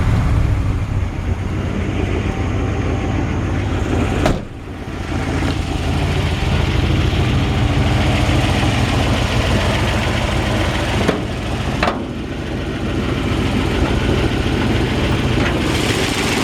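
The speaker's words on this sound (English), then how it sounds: "I love the way these 292s sound." Steady idle of a 1963 Ford F-100's 292 V8, a continuous low rumbling drone heard up close, briefly dipping twice with short clicks.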